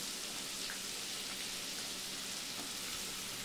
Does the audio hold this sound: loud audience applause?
no